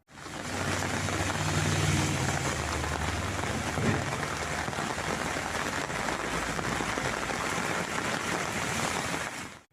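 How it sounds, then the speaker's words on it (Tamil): Heavy rain pours steadily onto waterlogged roads in Coimbatore and Avinashi, a dense continuous hiss filling the whole stretch at an even, moderate level. "கோவை, அவினாசி உள்ளிட்ட இடங்களிலும் பெய்த பலத்த மழையால் சாலைகளில் தண்ணீர் தேங்கியது."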